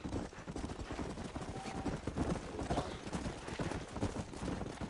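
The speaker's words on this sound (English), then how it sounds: "There's the horses!" Horses in the Red Dead Redemption video game trotting with busy, continuous clip-clop hoofbeats and occasional neighs, loud and close against a rough outdoor game background.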